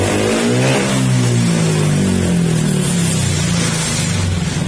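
A Honda Beat FI motorcycle with a misfiring engine revs up and down nearby, loud and close, the engine note rising and sagging unevenly with no talk.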